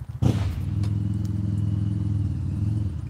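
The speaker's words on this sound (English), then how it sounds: "Such a cute little bike," A small motorcycle engine starts with a sharp clatter, then settles into a loud, steady buzzing idle close by, throbbing evenly with no voices.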